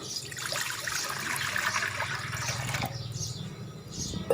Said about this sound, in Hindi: तो सबसे पहले कढ़ाई में पानी डाल लेना है